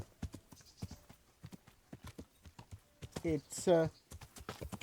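A horse's hooves clip-clop steadily uphill over rough terrain in the video game Kingdom Come, close and rhythmic, with a person briefly talking over the hoofbeats.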